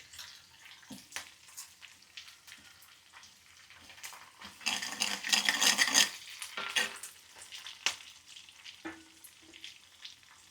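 Fenugreek seeds crackle and sizzle as they fry in hot oil for a broad bean curry, a quiet frying hiss that swells loudly for a couple of seconds midway and then settles back, with no one talking.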